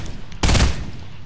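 A single sharp gunshot bursts out loudly in a video game, striking suddenly after a quiet stretch and trailing off quickly.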